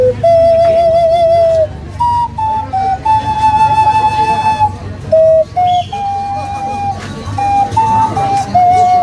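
A clay ocarina is played at a market stall in Cuetzalan, Puebla, Mexico, with a run of clear, pure whistled notes stepping up and down in short held phrases over background chatter and street noise.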